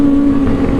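A 1000cc motorcycle engine drones past, a brief, loud, steady buzzing hum close by.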